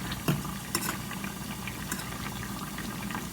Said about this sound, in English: I'm going to fry a little bit of a quantity at a time to make sure that it fries through.